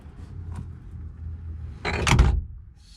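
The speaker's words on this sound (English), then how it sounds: "let's do the door test" A car door on a vehicle fitted with a roll cage and a newly installed dash swings shut, a single close, loud slam with a short rattle before quiet returns.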